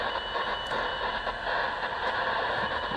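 Morse code on a shortwave radio near 6604–6607 kHz during a night-time band scan, heard as faint keyed tones buried in dense, hissing static that fills the whole stretch.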